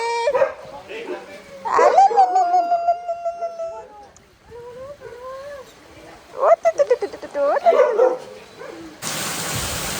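A young dog whimpers and yelps in high, wavering cries, with short bursts of rapid yips, close by; a noisy crackle cuts in at the end.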